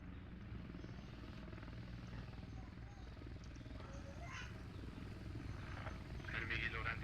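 An enemy helicopter setting down in a military war video game, its rotor drone steady and loud throughout, with a voice talking over it and brief higher tonal effects near the end.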